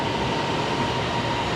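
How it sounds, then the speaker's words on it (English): A train pulls into a station on the way to Masjid Jamek, a loud, steady rumble and rail hum with a faint tonal whine running throughout and no talking. "my train is here"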